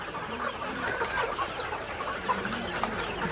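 Chickens cluck and squawk in scattered bursts around a farm of 1500 birds, the calls overlapping at mid distance above a steady background hum, with no speech.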